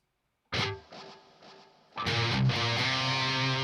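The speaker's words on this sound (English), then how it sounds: "yeah, I'll turn on some echo, because echo's fun" An 80s Gibson Explorer electric guitar played through an Axe-Fx II with echo on: a sharp distorted chord rings and repeats in fading echoes, then a second louder chord sustains with a long crunchy tail.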